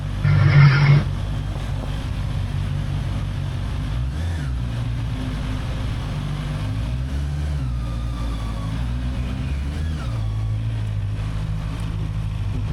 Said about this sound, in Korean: 시동 걸고 돌아가지고 있다